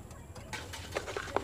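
Breeder pigeons in a stacked loft coo softly in a few short, low bursts toward the end of the moment, close by amid faint background noise.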